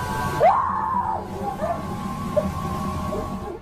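A woman screams loudly, a sharp rising shriek that bends down and trails off, followed by fainter wavering cries over a dull background murmur.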